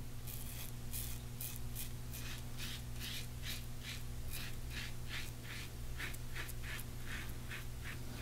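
A razor scrapes through a couple of days' beard growth coated in shaving cream, in rapid repeated strokes close by and quiet, with no talking.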